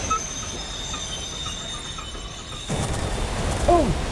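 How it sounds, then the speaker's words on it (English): Train passing in the WW2 Rebuilder video game, a rumbling rail passage with wheel squeal that swells louder midway, set against a faint background hum. "Oh my god, look at this train!"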